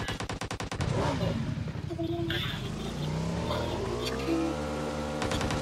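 Rapid bursts of automatic gunfire in PUBG Mobile with engine-like revving and a lingering hum, loud and close, with a few short pauses between volleys.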